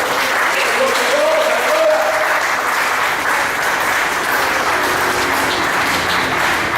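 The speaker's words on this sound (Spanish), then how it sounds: "Cuando le damos aplausos a Cristo, Padre." A church congregation applauds for Christ during a Spanish-language service, a steady, dense wash of clapping that fills the room without pause, with faint voices mixed into the crowd noise.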